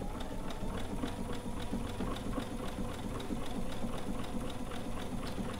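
Steady, rapid mechanical chatter of a sewing machine stitching through several thick fabric layers while a bucket hat is sewn, running continuously and fairly close, with no talk over it.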